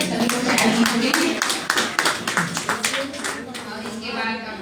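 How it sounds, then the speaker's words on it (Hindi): An audience claps at a Hindi book launch ceremony for the satirical collection "Khari Maskhari", honoring a guest. The applause is steady and fairly loud, with sharp individual claps standing out and a voice talking over it. "सर के सम्मान में ताली बजा दीजिए"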